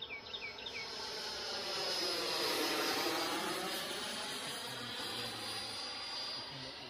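A Freewing F-16 Super Scale 90mm EDF RC jet on an 8s setup, tail heavy, flies past as a loud, whining ducted-fan roar that swells toward the middle and then slowly recedes.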